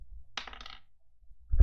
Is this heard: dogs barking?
no